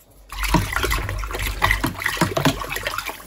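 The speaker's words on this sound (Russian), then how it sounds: "И мы сейчас с вами это все в эту водичку размешаем." Treatment solution being stirred into a container of water for soaking rootless orchids, giving a steady swishing, sloshing churn with small splashes, close and continuous with no talk.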